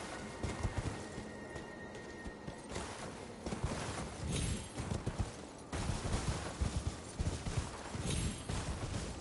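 A horse's hooves clatter continuously in the Elden Ring video game, a busy galloping rhythm mixed with dense, crackling game noise throughout.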